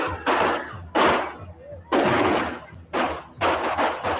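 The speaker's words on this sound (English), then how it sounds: "What sounded like shots turned out to be Chinese firecrackers." Chinese firecrackers bursting at a presidential campaign event, five or six loud, sharp cracks at uneven intervals that sound like gunshots, echoing nearby.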